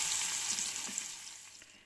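Continuous bright sizzling hiss of onions frying in a pan as water evaporates, steady and close, gradually fading slightly.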